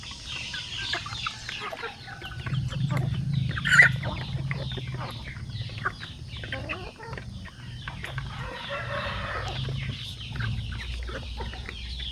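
Chickens in a backyard coop cluck and murmur steadily up close, with occasional louder calls over a continuous low farmyard hubbub.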